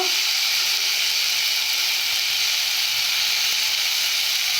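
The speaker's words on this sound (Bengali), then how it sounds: "ভালো করে ভেজে নেব এইভাবে" Food fries in a pan with a continuous, loud, even hiss and sizzle that holds steady throughout, with nothing else heard.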